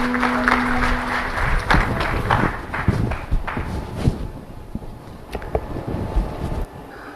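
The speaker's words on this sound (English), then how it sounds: "A round of applause for him, please" Audience applause at an awards ceremony of a national symposium, a dense rattle of many clapping hands that swells early and gradually thins out toward the end, with no voices.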